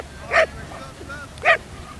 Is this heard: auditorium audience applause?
no